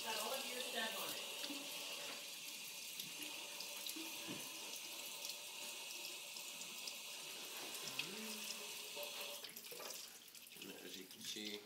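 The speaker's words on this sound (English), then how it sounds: "as you lift it up higher, more water comes out." Water runs steadily from a lifted container into a sink, a continuous close pouring wash with brief shifts in flow, and a voice speaks faintly over part of it.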